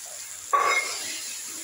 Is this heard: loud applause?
no